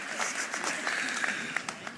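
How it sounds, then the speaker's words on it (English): Audience applause for the sheriff at Philadelphia Mayor Cherelle Parker's 100-days-in-office event: dense, steady clapping from a crowd, fairly close and continuous for the whole stretch. "Give the sheriff a huge round of applause"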